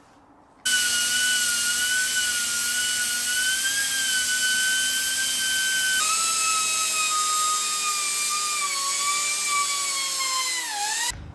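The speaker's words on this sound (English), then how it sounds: "So, time to get these on the bench, and I'll start grinding some metal away." An angle grinder cuts metal from a Fiat Panda 4x4 strut arm, a loud, steady, high-pitched whine that holds for about ten seconds, shifts slightly in pitch as the load changes, then winds down at the end.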